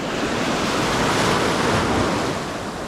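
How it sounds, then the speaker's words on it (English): Big ocean waves wash in at a beach near a breakwater and rocks at Pass-a-Grille, a loud, continuous surf roar with heavy wind buffeting the microphone. "And the waves are getting pretty big"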